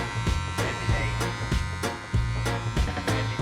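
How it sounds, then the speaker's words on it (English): A Wahl professional hair clipper with a guard fitted, run clipper-over-comb through hair. Its steady electric buzz is loud and close, broken by repeated short strokes at a roughly regular rhythm. "kind of do some clipper over comb with the guard on."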